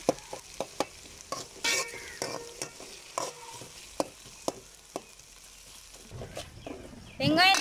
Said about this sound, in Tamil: இப்போ தக்காளி வந்து வதக்கிக்கலாம்